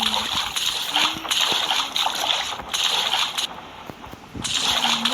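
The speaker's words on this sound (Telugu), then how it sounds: "drainage water" Drainage water splashing in the Granny horror video game, with repeated sloshing splashes in bursts, while a person talks over the gameplay.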